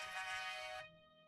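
A mobile phone ringtone for an incoming call plays as a bright electronic tone, fairly faint, cutting off after about a second.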